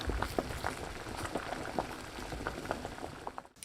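Potatoes boil in a pot, with soft, continuous bubbling and scattered small pops. The sound is quiet and close, with no talking.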